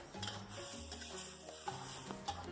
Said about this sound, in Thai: แล้วเราก็ผัดให้เข้ากันนะคะ